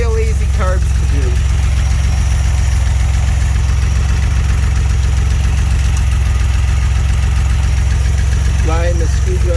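A 1981 DeLorean DMC-12 engine idles steadily at operating temperature, a loud, even low rumble running the whole time, with brief voices in the background near the start and end.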